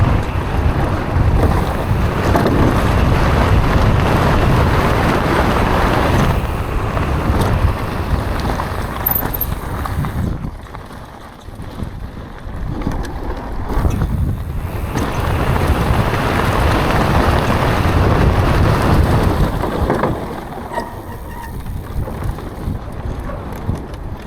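Strong wind buffets the microphone while mountain biking at a bike park, a loud, continuous roar that dips briefly midway and then surges again.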